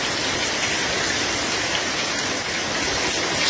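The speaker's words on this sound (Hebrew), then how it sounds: "איזה ברד יורד לנו!" Heavy hail pours down onto a grass lawn during a violent hailstorm in Tel Aviv, a dense, steady hiss of countless impacts at constant loudness with no pauses.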